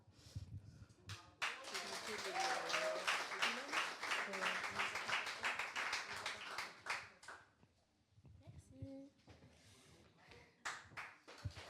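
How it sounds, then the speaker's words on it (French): A congregation applauds during a church service, a dense round of clapping that swells and then tapers off, with voices speaking before and after. "on applaudit encore"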